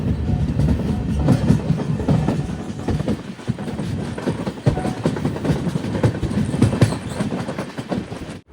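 An express sleeper train rolls into Karaikudi Junction, wheels clattering on the rails in a steady loud rumble heard from inside a coach, with no voices.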